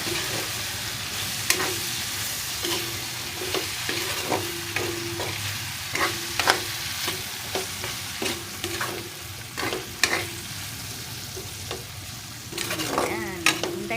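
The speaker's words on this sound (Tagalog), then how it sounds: "Hintayin natin mag-brown yung garlic at saka yung palaya" Garlic and onion fry in a hot pan with a continuous sizzle, broken by repeated scraping and clinking stirs of a utensil at close range, with no talking.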